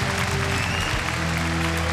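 An esports crowd at a StarCraft 2 IEM 2011 Grand Final cheers and claps in a dense, continuous roar of applause, loud and close, with crowd voices mixed in throughout.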